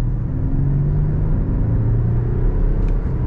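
An Audi A6 Allroad accelerates on a closed street, its engine a steady, loud rumble with a low drone that builds throughout, close and uninterrupted, with no voices.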